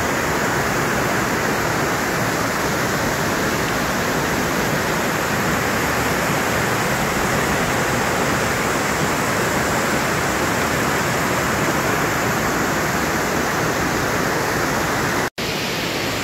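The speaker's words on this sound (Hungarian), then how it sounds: "az előbb átjöttünk ezen a kis patakon, ami vízesés formájába érkezik be a nagyobb testvérébe" Small stream spilling as a waterfall into a larger river in the Békás Gorge, a steady, loud, broadband rushing roar that holds unbroken throughout with no voices.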